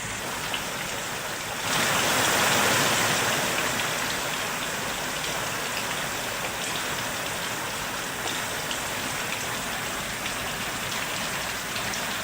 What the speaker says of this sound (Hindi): लगातार बारिश का सिलसिला जारी है